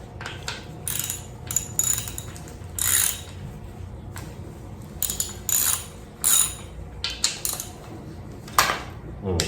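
A hand ratchet fitted with a 12 mm socket works the timing chain guide bolts on an engine being rebuilt, giving close, quick bursts of clicking separated by short pauses.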